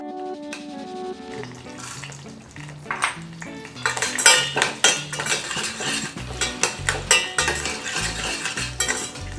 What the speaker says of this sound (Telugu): జీడిపప్పు కొంచెం కలర్ మారే వరకు వేయించుకోవాలి.